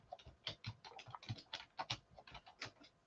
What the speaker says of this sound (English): Just typing in here.